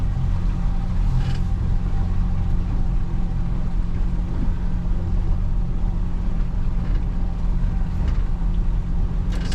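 Boat motor idling at low speed, a Yamaha main outboard on a Thunderjet boat, giving a steady close-up drone with water and wind noise throughout and no change in pace.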